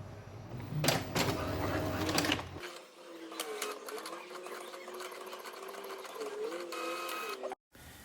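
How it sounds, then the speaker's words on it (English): An Epson L3158 inkjet printer runs a nozzle check print, its mechanism whirring and buzzing in steady bursts, loud and close for several seconds, then dropping to a softer, continuous motor hum with shifting tones before stopping abruptly. "Once the cleaning is finished, just click print nozzle check and click print."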